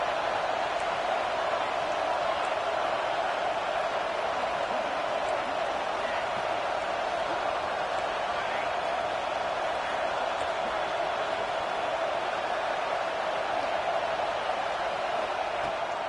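Steady, dense crowd roar from a packed stadium in an NCAA football video game, Houston versus Michigan, continuous and fairly loud throughout with no clear breaks, like a broadband wash of cheering.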